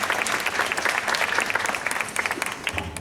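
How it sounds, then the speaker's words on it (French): Audience applause at an event for a UNICEF France children's committee member: dense, continuous clapping from a crowd of many hands, steady and fairly loud throughout. "On peut l'applaudir Michel"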